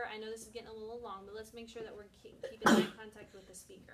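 A single sharp sneeze bursts out in a classroom, loud and close, interrupting a teacher's steady talking for a moment before the talking carries on.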